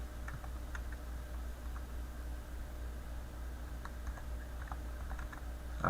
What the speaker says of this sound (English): And then I'll type in the word precipice.